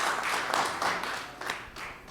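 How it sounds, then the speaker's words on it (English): Audience applause for distinguished guests at a formal event, a sustained burst of clapping from a crowd, steady and moderately loud, with no talk over it. "Please give a big round of applause to all the distinguished guests."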